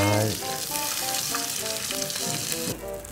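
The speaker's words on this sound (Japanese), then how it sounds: "こちらを皮を下にして 焼いていきましょう" A skin-on fish fillet laid skin-side down sears in a hot pan, giving a steady close sizzle with faint crackles throughout and no talking.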